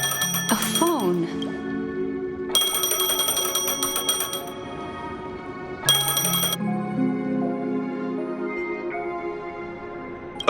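A phone rings in the sci-fi video game Honkai: Star Rail, a bright electronic trill in three bursts over steady game music, each burst loud and close with short gaps between.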